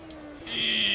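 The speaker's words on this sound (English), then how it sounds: "Want to hear that engine? I know, dude. Oh, it's beautiful." A Formula 1 car from the 2006 season revs in the AMS 2 racing game, starting as a lower drone and then climbing into a loud, sustained high-pitched whine that holds steady to the end.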